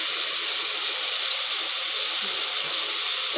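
Chopped tomato hitting frying onions in a pan for chicken curry, giving a steady, fairly quiet broadband sizzle and hiss that stays even throughout with no talking.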